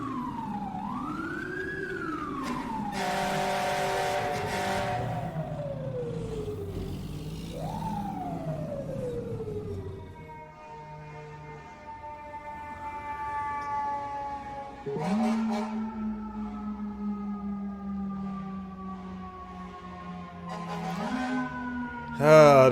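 FDNY fire truck sirens in the EmergeNYC video game wail and yelp in rising and falling sweeps, joined by a deep rumbler siren's low droning tone and sharp electronic horn blasts, loud and close with a little background talk.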